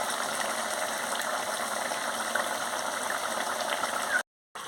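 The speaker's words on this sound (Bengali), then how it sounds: "দেখুন বন্ধুরা, কি সুন্দর ফুটছে, রঙটা দারুণ হয়েছে।" A pomfret fish curry boils in a pot with carrots and potatoes, a steady close bubbling hiss of simmering liquid that runs evenly and briefly cuts to silence near the end.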